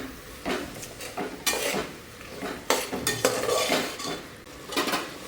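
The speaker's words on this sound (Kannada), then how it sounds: "ಟೊಮೆಟೊ ಮತ್ತು ರುಬ್ಬಿರೋ ಮಸಾಲೆ ಹಾಕ್ಕೊಳೋದು ಸ್ವಲ್ಪ ಚೆನ್ನಾಗಿ ಫ್ರೈ ಆಗಲಿ" Tomato and ground masala fry in a pan while a utensil stirs and scrapes, giving repeated bursts of clinking and scraping over a soft sizzle, close and fairly loud, with no talking.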